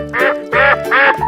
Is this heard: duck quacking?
yes